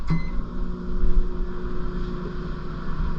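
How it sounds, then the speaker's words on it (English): A microwave oven runs with a steady electric hum and low droning whir, close and unchanging for a few seconds. "we're just going to microwave it for about 5 seconds"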